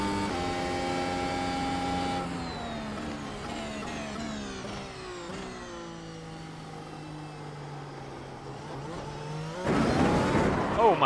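A NASCAR race car in a racing video game at Indianapolis, its engine droning and sweeping in pitch as it revs and shifts, swelling louder near the end.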